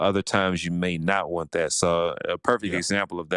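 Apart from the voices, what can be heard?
None of the usual background noises is heard.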